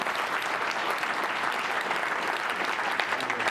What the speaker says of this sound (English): So if we could give them applause.